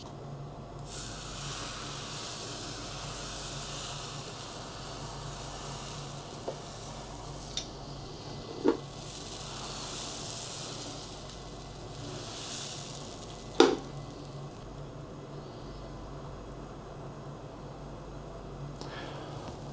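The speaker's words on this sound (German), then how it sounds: "Eine Bratpfanne mit Deckel gut vorheizen und dann hier den Teig dünn einfüllen." Thin injera batter made from teff flour sizzles steadily in a preheated frying pan with a lid, a soft, continuous frying hiss broken by a few faint ticks and pops, with no talking.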